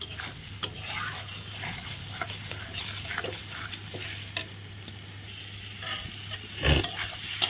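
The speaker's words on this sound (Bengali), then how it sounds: "এখন ভালো করে কষিয়ে নিচ্ছি" Spice paste made with ground cashew sautés in a pan, a low sizzle with irregular scraping and knocking as a spoon works it, plus a low hum in the background.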